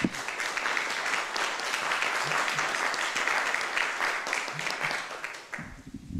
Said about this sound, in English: Can we please give an applause to Professor Ken?